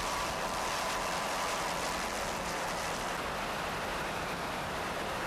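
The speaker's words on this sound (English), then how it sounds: "The engines sound real fine." Twin turbo offshore powerboat engines run at speed during an offshore race, a dense, loud, unbroken roar mixed with rushing water and wind noise.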